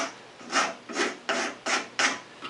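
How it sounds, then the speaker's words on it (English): A scraper shaving the face of a wooden tenon, five or six rhythmic rasping strokes close up, each a short scratchy pass separated by brief pauses. "That's where I take a scraper. You can use paint scraper or card scraper."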